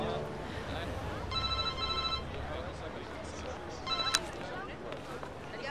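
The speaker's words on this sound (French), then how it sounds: "votre téléphone" A telephone rings in two short trilling bursts, one early and one a few seconds later, over a steady room background in a Christmas film scene, with no clear speech.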